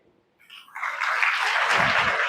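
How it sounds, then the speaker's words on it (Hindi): Audience applause at a Brahma Kumaris spiritual gathering in Rajnandgaon, rising from near silence into steady, dense clapping that fills the room and holds for about two seconds. "आप ताली बजा सकते हैं।"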